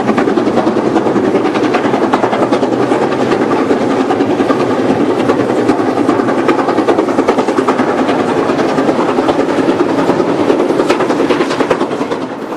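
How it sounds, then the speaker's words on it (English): A QJ class steam locomotive hauling a train across the Brickworks Valley Viaduct at Erdi, a loud continuous rumble with rhythmic clatter from the wagons lasting throughout, no talk. "QJ7112 is crossing the Brickworks Valley Viaduct at Erdi."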